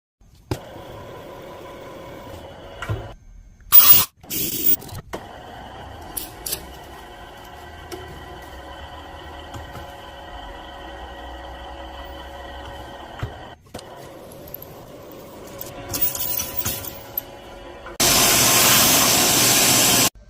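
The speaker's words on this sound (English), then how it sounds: "I'm going to drill just a small pilot hole, then I'm going to try a reverse drill bit." A power drill whirs steadily for long stretches while drilling a small pilot hole, with brief louder bursts and pauses, close up, and a harsh noisy burst near the end.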